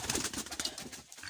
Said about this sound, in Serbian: Ovo je jedan dobar golub